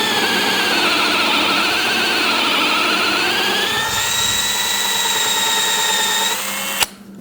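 A power drill with a countersink bit bores a hole in wood, a loud, steady whining spin that shifts pitch partway through as the bit bites deeper, then stops abruptly.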